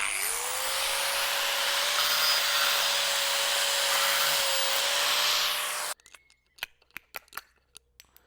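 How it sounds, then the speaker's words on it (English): Hole cutter on a grinder boring through jackerboard tile backer board: a loud, steady high-pitched grinding whine for about six seconds, then it stops and leaves a few sharp knocks and scrapes of the board being handled. "drill a hole out of your jackerboard in the same size hole cutter you want to use"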